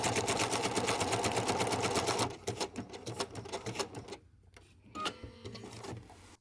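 Sewing machine running a practice pass of wool applique stitching: rapid rhythmic mechanical chatter for about two seconds, then slower, intermittent stitch bursts with short pauses and quiet handling noises.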